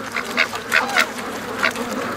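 Muscovy ducks on a small farm give several short, raspy quacks in uneven bursts, fairly close, with no talking over them.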